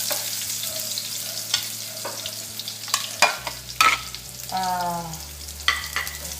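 Red onions hit hot oil in a pan for a bitter gourd stir fry, giving a steady soft sizzle and crackle with scattered pops and utensil clinks, close and fairly quiet.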